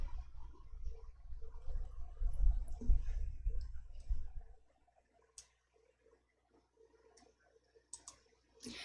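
Mouse clicks on a computer running Excel: a few sharp, isolated clicks spaced seconds apart in a quiet stretch, following several seconds of heavy low rumbling noise.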